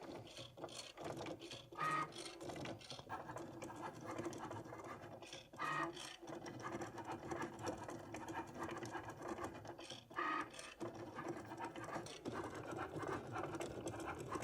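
A Cricut cutting machine works through textured PVC vinyl, giving a steady mechanical whir with scratchy, ratcheting clicks and brief louder bursts as the carriage moves back and forth, with no talking.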